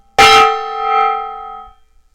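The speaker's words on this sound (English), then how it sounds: "So we're going to bang a gong." A gong struck once in a hobby workshop, a sharp loud metallic clang followed by a bright ringing shimmer that swells briefly and then decays over about a second and a half, heard alone.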